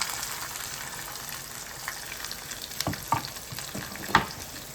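Thinly chopped onions sizzle and fry in hot oil for a mushroom curry, a steady close crackle with a few louder spatters and stirring scrapes, no voices.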